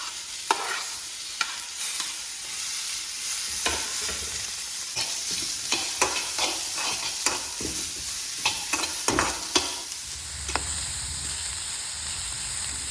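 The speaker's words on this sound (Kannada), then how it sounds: "ಇಲ್ಲಿ 2 ಲಾರ್ಜ್ ಸೈಜ್ಡ್ ಆನಿಯನನ್ನು ಆ್ಯಡ್ ಮಾಡಿಕೊಂಡು ಇದು ಸ್ವಲ್ಪ ಡಾರ್ಕ್ ಬ್ರೌನ್ ಆಗೋ ತನಕ ಫ್ರೈ ಮಾಡ್ಕೊಳ್ಳಿ" Two large onions frying in a pan until dark brown, a continuous close sizzle punctuated by repeated sharp stirring scrapes and taps, with a hissing burst near the end and no voices.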